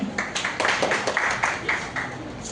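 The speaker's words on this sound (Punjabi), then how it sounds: "ਇੱਕ ਵਾਰ ਜ਼ੋਰਦਾਰ ਤਾਲੀਆਂ" An audience at a Punjabi literary gathering and book event claps together in steady, lively applause that continues evenly throughout.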